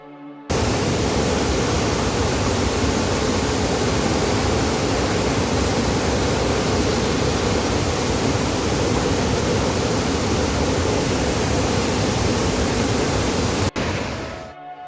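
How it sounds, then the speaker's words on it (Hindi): A waterfall in the Tirthan Valley, Great Himalayan National Park, roars in a steady, dense rush of broadband noise, loud and unbroken for the whole stretch before cutting off abruptly. "पर यह झरना है बड़ा खूबसूरत।"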